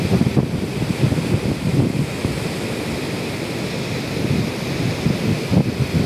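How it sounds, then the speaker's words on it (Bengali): Roaring Nuranang waterfall in Arunachal Pradesh during the monsoon, a loud, dense, continuous rushing wash of falling water heard up close, buffeted by wind noise on the microphone, with no talking. "পুরো জাইগান্টিক ওয়াটারফলস"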